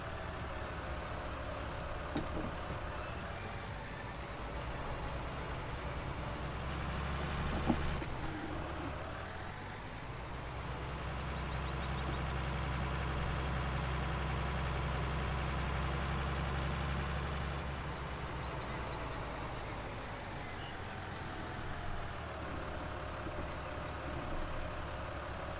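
A tractor engine in Farming Simulator 19 drones steadily throughout, a low heavy rumble that swells and holds under load through the middle before easing back to an idle-like hum.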